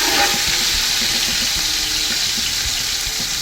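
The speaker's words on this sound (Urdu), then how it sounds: "اب اسی تیل میں جو ہے میں اپنے پیاز جو ہے وہ فرائی کروں گا" Onions fry in half a cup of hot ghee for Kabuli pulao, making a steady, loud, dense sizzle with faint crackles, close up and without talk.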